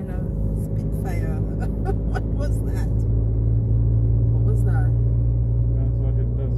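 A Spitfire car engine runs at about 3,000 RPM under load with a loud, steady low drone and rumble while people talk over it.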